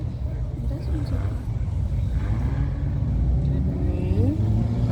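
Engine noise from ATVs and cars at an Estonian banger rally final (romuring), a steady low rumble with rising revs and pitch sweeps from vehicles passing at middle distance, loud and continuous throughout.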